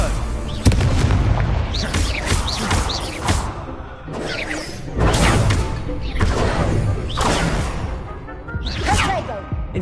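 Confringo blasting-curse explosions in a Harry Potter video game duel: a run of loud, heavy booms and crackling bursts follow each other in quick succession amid busy spell-fight noise.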